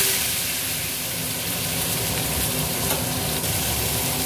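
Bay leaf, panch phoron and a dried red chilli tempering in hot mustard oil, a steady close dense sizzle and crackle running throughout with no talking.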